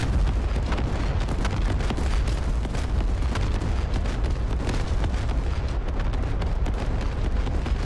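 Unguided rockets from a JF-17 detonate in the DCS flight simulator, a dense continuous rumble of overlapping booms and bursts, loud and steady throughout with no voices.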